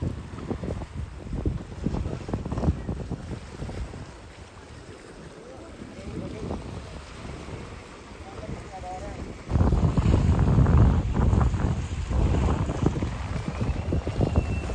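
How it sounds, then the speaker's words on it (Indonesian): Waves and moving water on a beach in Belitung, with steady wind buffeting the microphone throughout and a louder burst of surf and gusts in the second half; voices murmur faintly underneath. "Biar kalian yang kangen sama pantai bisa dengar suara ombak, dengar suara air"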